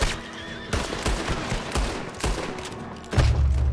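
Rapid volleys of gunfire in Red Dead Redemption 2: close, sharp shots in quick bursts, with a horse faintly heard among them.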